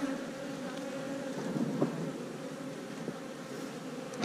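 Crowded honeybee hive in a bee yard, full of newly hatching bees, giving a steady low drone with a busy buzzing texture throughout and a few faint knocks.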